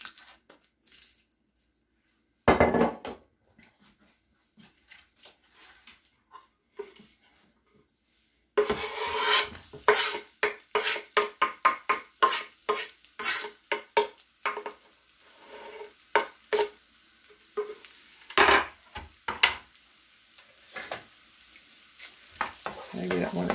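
Garlic sizzles and crackles in extra virgin olive oil in a pan, with repeated scraping stirs and rasping bursts after a quiet start and one brief early sizzle, close and fairly loud.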